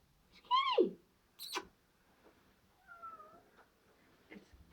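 A cat trapped inside a household furnace gives one clear, drawn-out meow, followed by a few fainter, shorter mews in a quiet, hollow-sounding space.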